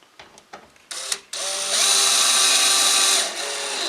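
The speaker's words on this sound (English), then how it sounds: "now I'm just driving a couple of screws, or a screw in each hole." A power drill drives 1-1/4 inch screws into a wooden storage cabinet, with a few light clicks and taps before a loud, close, sustained whirring drive that runs for a couple of seconds and then eases slightly.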